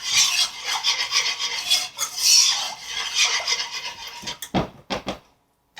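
Heavy cream being mixed into mac and cheese, a close, rough scraping and rubbing of a spoon through a thick mixture in a bowl, in continuous strokes that slow to a few sharp scrapes before stopping.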